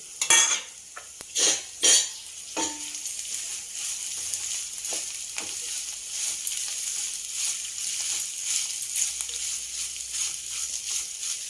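A tempering for coconut rice sizzles in a pan with asafoetida, a steady bright frying hiss that runs throughout, broken early by a few loud clinks and scrapes of a spoon stirring against the pan.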